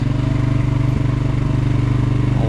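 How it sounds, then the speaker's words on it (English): Polaris Sportsman 570 ATV engine braking on a downhill trail descent, a steady low throbbing engine hum with even pulsing, close and continuous with no talk. "the engine braking and that downhill descent, that comes in pretty handy"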